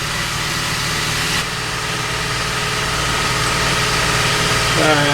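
An air compressor runs in a home garage with a steady, droning mechanical hum throughout, changing slightly partway through and continuing at an even, moderate level.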